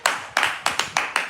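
A church congregation claps for the Lord in crisp, close, irregular bursts of about seven sharp claps in quick succession.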